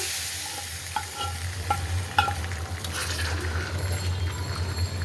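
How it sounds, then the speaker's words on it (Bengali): Lentil dal tempering fries in a pan, a steady close sizzle with a few scraping stirs and clinks of a utensil, and no talk. "বেশ আমি একটু ডালে ভাজা দিয়ে দিলাম।"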